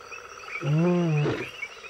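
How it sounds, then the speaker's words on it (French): A single lion's roar, a short harmonic groan that swells and fades over about a second, close and clear against a quiet background. "Le rugissement est un moyen de communication privilégié chez les lions."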